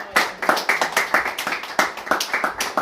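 A church congregation claps in praise at a worship service, a steady run of sharp, fairly loud hand claps with a quick, slightly uneven rhythm and no talking over them.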